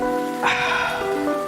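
Steady rain falls throughout with a dense, even hiss, continuous and fairly loud, while a background music bed carries on beneath it.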